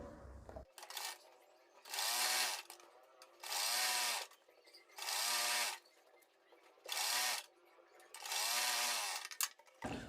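Electric sewing machine stitching pintucks on fabric in five rapid whirring bursts separated by short pauses, loud and close with no talking.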